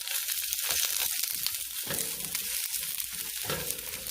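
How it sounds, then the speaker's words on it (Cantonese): Bell peppers, wood ear fungus and snap peas stir-fried in oil in a wok over medium heat, a close steady sizzle broken by irregular scraping stirs and clatter. "用中火爆下啲燈籠椒、雲耳同埋蜜糖豆"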